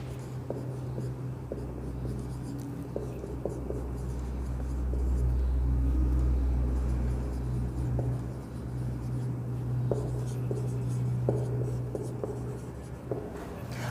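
A pen writing an address on notebook paper, with soft scratchy strokes and light taps that continue steadily and quietly over a low hum.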